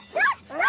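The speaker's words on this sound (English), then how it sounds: "A dog says..." A cartoon dog gives two quick, close bow-wow barks, clear and alone with no other sound.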